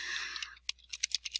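Keys tapped on a computer keyboard while entering a country name into a search box, a brief run of separate clicks after a steady hiss, close and fairly quiet.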